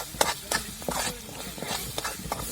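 Masala spices stirring and frying in oil for a hotel-style matar paneer curry, with soft continuous sizzle and repeated scraping stir strokes, close and steady.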